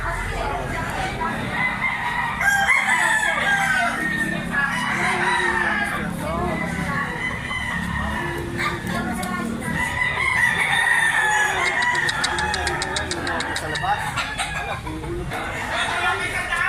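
Roosters crow repeatedly while hens cluck steadily nearby, over a constant busy background with some people talking, at a livestock market in Lipa, Batangas, Philippines.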